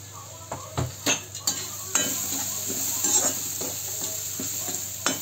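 Spices with red chilli and coriander powder roasting in a pan, a constant close sizzle broken by scraping, clinking spoon strokes against the metal, heaviest early on, with no voices.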